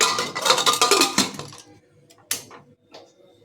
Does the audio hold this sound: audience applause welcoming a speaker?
no